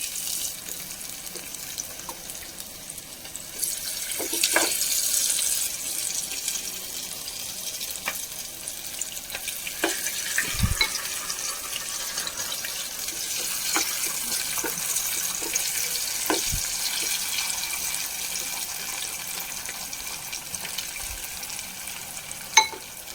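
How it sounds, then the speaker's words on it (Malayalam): Pieces of beef for a special beef finger fry crackle in hot oil, a steady hissing sizzle lasting throughout with scattered pops and occasional sharp clicks of the pan, one louder knock near the end. "എണ്ണ ചൂടായി, നമുക്ക് കുറച്ച് ഇട്ട് കൊടുക്കാം. നന്നായിട്ട് ഫ്രൈ ചെയ്തെടുക്കും."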